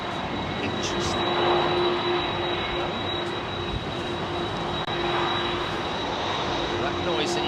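Jet airliner with Pratt & Whitney or General Electric CF6 engines at London Heathrow runway 27R, a loud, steady broadband engine roar holding close and constant throughout, with a sustained whine on top.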